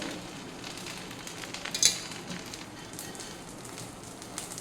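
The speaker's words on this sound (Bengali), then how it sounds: "মিডিয়াম হিটে এটা আমি একটু নরম করে ভেজে নেব" Drumstick leaves fry in hot oil over medium heat, giving a steady close crackling sizzle with fine pops throughout and a brief louder spatter near the middle; no voices.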